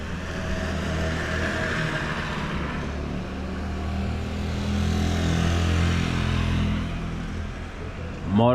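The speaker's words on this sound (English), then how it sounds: "Motorcycles everywhere." Motorcycle engines drone steadily along a street in Tulum, a continuous close rumble of passing traffic that swells slightly midway, with a brief higher whine at the very end.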